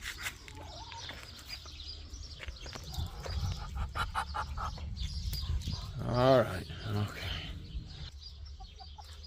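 Chickens clucking nearby on a farm with ducks around, scattered clucks and a louder squawk partway through, mixed with a voice speaking briefly.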